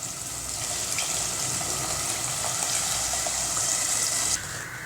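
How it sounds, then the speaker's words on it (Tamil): Dissolved tamarind water pours into a pan of sautéed tomatoes and sambar powder for papad curry, making a continuous close splashing and sizzling rush that cuts off sharply near the end. "சேர்த்துட்டு புளியை கரைச்சி ஊற்றிடலாம்."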